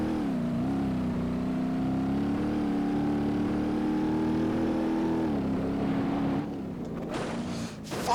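A car engine in the BeamNG.Drive driving game pulls steadily in third gear, its hum rising slightly and then dropping, before the sound breaks into scattered rougher bursts near the end.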